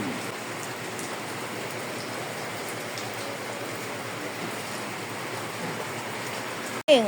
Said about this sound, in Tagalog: Maulan na maulan.